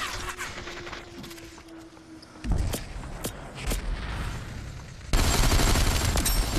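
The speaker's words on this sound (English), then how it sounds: "Oh shit, I am getting shot from behind now." Gunfire in the VR shooter Population: One, bursts and scattered shots cracking through a noisy game mix, growing louder and denser toward the end.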